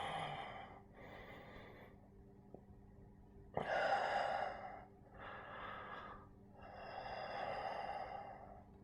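Deep, slow breaths during a yoga class, heard as a series of long, airy inhales and exhales in a steady rhythm, near and soft, with no speech.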